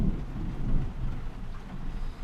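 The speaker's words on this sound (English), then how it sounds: "It's raining and thundering." Rain falls with thunder rumbling, a steady low roar of downpour and deep rolling rumble that holds at a moderate level throughout, with no speech.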